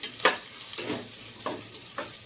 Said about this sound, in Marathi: त्याच्यामुळे आधी कांदा भाजून घेते मी, नंतर हे अद्रक आणि लसूण